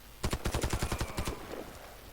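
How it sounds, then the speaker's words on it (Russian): Automatic gunfire in a shooter video game, a close burst of about a dozen rapid, evenly spaced shots lasting roughly a second, then fading into quieter game ambience without speech. "он по мне стрелял"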